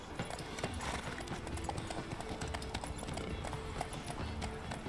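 Horse hooves clip-clop steadily in The Witcher 3: Wild Hunt, a continuous close trotting rhythm with bright repeated hoof strikes over a dense game backdrop and a faint whinny.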